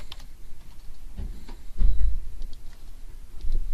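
Keystrokes on a computer keyboard while an insulin order is entered, a few soft clicks at first and then a louder cluster of taps partway through, with low room noise underneath.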